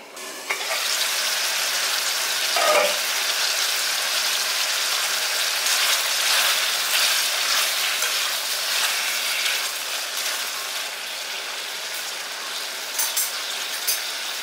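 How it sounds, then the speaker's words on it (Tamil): Tomatoes sauté in sesame oil in a pan for a tomato pickle, giving a steady, close, even sizzle that holds throughout with a light crackle and faint stirring, and no voices. "தக்காளி வந்து வதங்கிட்டு இருக்கு."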